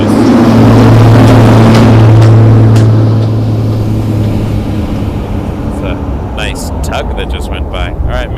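A Boeing 737 MAX 8 airliner at Toronto Pearson airport gives a loud, steady low jet roar that slowly fades and thins over several seconds, with light handling noises and clicks near the end.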